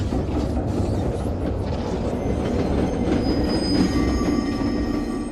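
In a film scene, a passenger train rolls along its rails with a steady, close rumbling roar, faint wheel squeal and a thin high tone near the end. No voices are heard.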